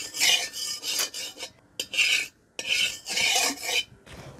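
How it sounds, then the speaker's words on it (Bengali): Hot ghee being spread around a kadai with a spoon, sounding as repeated rasping scrapes of metal on metal in several bursts, close and fairly loud. "ঘিটা গরম হয়ে গেলে আমি এটাকে একটু কড়াইয়ের সাথে মিশিয়ে নিচ্ছি।"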